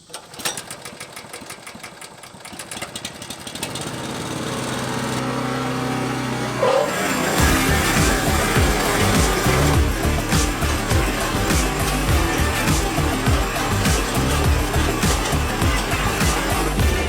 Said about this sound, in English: get the rest of this aerated, and then take the machine through the whole thing